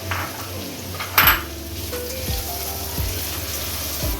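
Two sliced medium onions frying in oil already used for arvi, with a soft sizzle beneath sharp, close clinks of a utensil against the pan.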